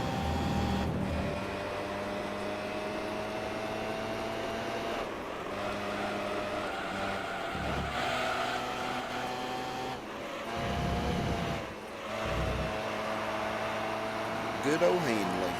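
A car engine in Gran Turismo 3, during a beginner four-wheel-drive challenge, holds a steady mid-level drone with slight pitch swells, running under someone talking for most of the stretch.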